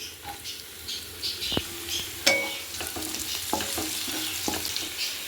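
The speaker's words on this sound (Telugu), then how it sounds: "ఆయిల్ హీట్ అయ్యాక కట్ చేసుకున్న ఆనియన్ వేసుకుందాం" Chopped onions fry in three tablespoons of hot oil in a pan, with a steady close sizzle broken by occasional scrapes and taps from stirring.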